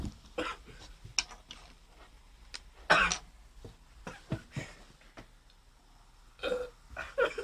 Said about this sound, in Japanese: ゲップが